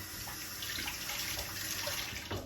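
A kitchen tap running into a sink while meat for chicken and dumplings is rinsed: a steady, close rush of water with slight splashing changes as the item moves under the stream, with no talking.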